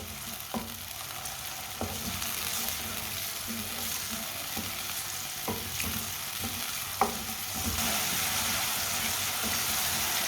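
Punjabi-style winter mixed vegetables with large-cut mild green chillies cooking in a pan, giving a steady close sizzle broken by a few spatula knocks and scrapes at uneven intervals.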